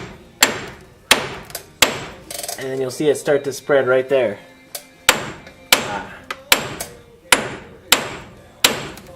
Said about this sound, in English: so I'm going to hit it with a hammer